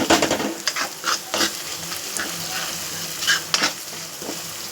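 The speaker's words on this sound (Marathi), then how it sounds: "पहिला याला चांगलं परतून घ्या कोलंबाला" Dried shrimp fry in a pan with a steady, close sizzle while a spoon stirs and scrapes through them in irregular strokes.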